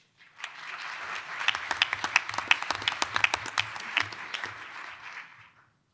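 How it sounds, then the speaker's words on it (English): A round of applause for the host at a Library Foundation event, clapping rising quickly, holding as a crisp patter of many hands for several seconds, then tapering away. "I would like you please give a round of applause to our host, Stephen Rothstein"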